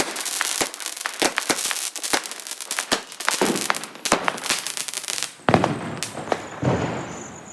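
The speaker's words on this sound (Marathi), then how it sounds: "अजून फटाके फोडायचे" Diwali firecrackers burst outdoors in a string of sharp, loud cracks and pops at irregular intervals, with crackling between them and a heavier blast near the end.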